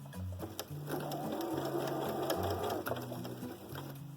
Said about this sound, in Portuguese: eu vou passar uma costura seguindo o risco, bem em cima do risco.